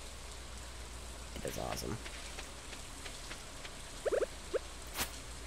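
Soft, steady rainfall hisses in the farming video game Stardew Valley, a faint even patter running underneath as a person briefly speaks and a few short clicks pop up.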